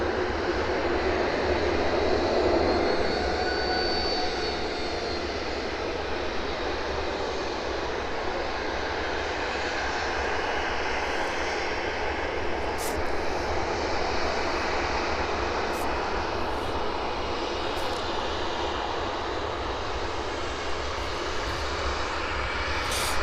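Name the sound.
aircraft engine at an airport, lining up on runway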